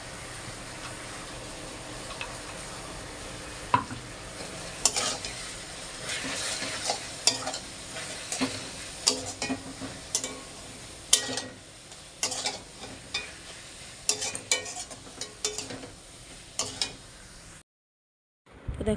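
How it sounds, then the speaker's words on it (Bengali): Spices fry in a pan for chalta (elephant apple) pickle after the sugar syrup has dried, with a steady sizzle and repeated scraping stir strokes up close, then a sudden cut to near silence at the end. "মশলাটা দিয়ে দেবো, দিয়ে একটু ভালো করে ভেজে নেবো"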